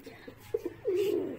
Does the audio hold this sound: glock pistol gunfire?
no